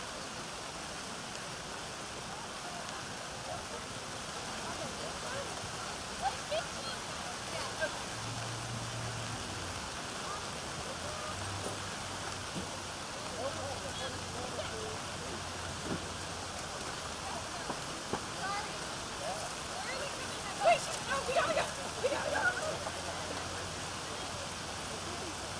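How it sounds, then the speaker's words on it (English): Heavy rain at an outdoor cross-country race, a constant broad hiss that stays even throughout, with faint distant voices and a few scattered knocks. "Now you can see it's raining really hard."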